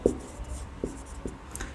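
Chalk taps and scratches on a board during a chemistry lesson, with three or four short separate strokes close by and quiet gaps between them, no speech.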